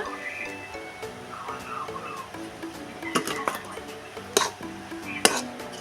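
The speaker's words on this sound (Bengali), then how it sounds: "দেখুন আগে সুজিটাকে দিয়ে ভালো করে তালেতে নেড়ে নিতে হবে দিয়ে দিচ্ছি ময়দা" Semolina and flour being stirred in a pan with a utensil, giving soft scraping and light metallic clinks with a few sharper knocks, steady and close over background hum.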